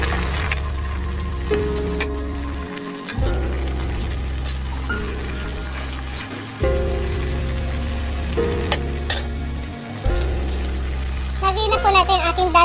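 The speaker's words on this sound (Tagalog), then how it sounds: "Haluin po natin." Chicken adobo with bay leaves sizzles steadily in a pan while being stirred, a loud continuous frying hiss with periodic scraping of the spoon and brief pauses, someone talking over it near the end.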